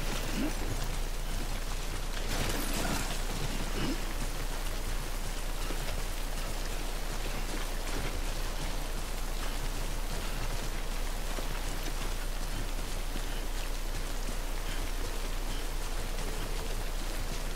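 Steady, dense rain in the video game Death Stranding patters continuously on surfaces, a constant hiss of falling drops with no voices.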